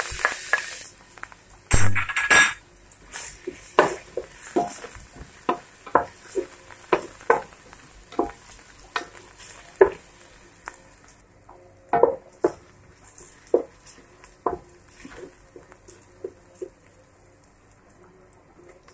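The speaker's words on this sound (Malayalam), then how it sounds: "കുറച്ച് എണ്ണ വെച്ച് നമ്മളെ ഇഞ്ചി, പച്ചമുളക്, വെളുത്തുള്ളി." Ginger, green chili and garlic frying in oil in a pan, with scattered sharp clicks and scrapes of a spoon stirring against the pan over a faint sizzle, close and alone.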